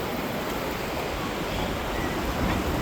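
Waves washing ashore at a beach, heard as a steady, broad rushing wash of surf with a slight swell toward the end, fairly close and without voices.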